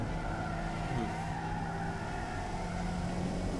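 An 80s coupe in the Automation car game drives steadily with its engine humming under constant throttle, a continuous mid-level motor drone throughout with no voices.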